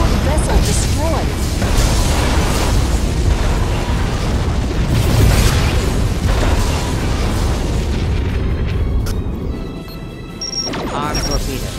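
A Borg vessel explodes in the Star Trek Legacy video game, heavy booming blasts and crashing bursts rolling nearly continuously and loud, with voices speaking over the battle.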